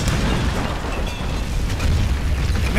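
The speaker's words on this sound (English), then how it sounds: "Man, I wanted to see the explosion." A loud, rumbling explosion in the video game Tomb Raider, with a deep, sustained boom and crackling debris filling the space, no talk over it.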